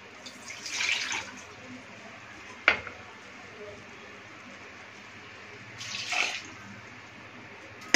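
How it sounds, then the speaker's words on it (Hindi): Water splashes and pours in two short bursts with a sharp clunk between them, a measured bowl of water emptied into a pot of rice and dal for masala veg khichdi, then quiet. "और हम माप के पानी डालेंगे।"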